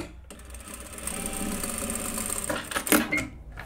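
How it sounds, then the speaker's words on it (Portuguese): A sewing machine runs steadily while stitching a strap onto a fabric mask made without elastic, a close, continuous rapid mechanical whir that stops near the end with a short clack. "passo uma costura"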